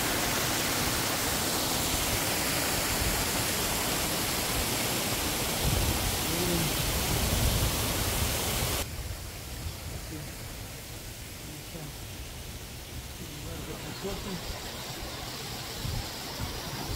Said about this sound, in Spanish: Esta es la cascada.